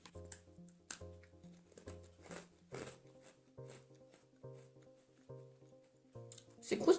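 Crunchy, very sweet caramel-flavoured letter-shaped German snack being chewed close up, a run of crisp crackling bites in an uneven rhythm, fairly quiet, with a short burst of noise at the end.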